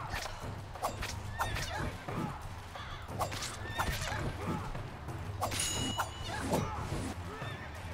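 A horse whinnies repeatedly in the 2D action game Devil Slayer Raksasi, with short calls rising over a steady game soundtrack and a low rumble.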